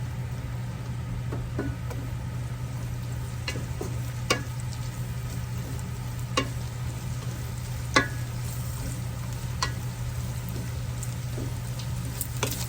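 Jackfruit cooks in coconut milk and oil over a high flame, giving a steady low frying hiss with a constant hum beneath and occasional sharp utensil clicks scattered throughout.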